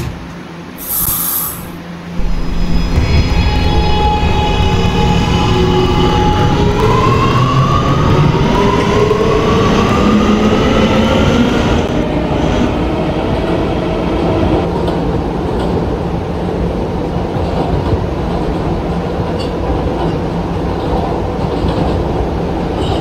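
A Roblox PTA Subway R211A train on the R local toward Myrtle Avenue runs along the track after a brief quiet start, giving a loud, steady rail roar with rising and falling motor whine and rhythmic wheel clatter throughout.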